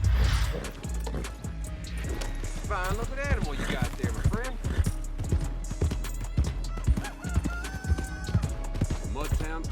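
A horse in the Red Dead Online video game answers a call and approaches, with clip-clop hoofbeats, a neigh and busy game sounds layered over a voice talking throughout.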